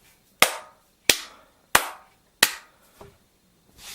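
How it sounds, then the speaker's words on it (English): Four sharp, evenly spaced hand claps ring out close and loud, each with a quick decay, followed by a couple of softer, duller sounds, with no talking. "It's difficult to distinguish between a positive clap and a sarcastic, negative clap."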